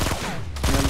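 Gunfire in a first-person shooter video game, a dense burst of rapid shots that cuts off midway and then resumes, loud and close, with no talk over it.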